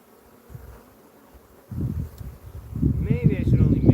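Honeybees buzz around the hive, a low droning hum that grows louder and busier near the microphone, with handling rustles.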